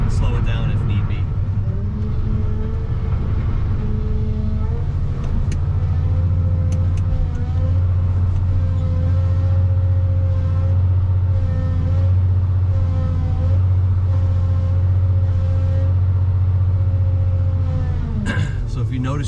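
A new Volvo wheel loader runs in its most sensitive mode, its engine holding a steady, loud low drone with a rising rumble near the start and a sharp change at the very end; no talk is heard.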